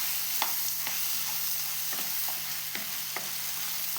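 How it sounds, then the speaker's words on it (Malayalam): Food sautés in a pan with a continuous soft sizzle, interrupted by several light scraping stirs of a utensil at irregular intervals, heard close with no talking. "അപ്പോൾ നല്ലോണം ഇതിനെ വഴറ്റിയെടുക്കണം."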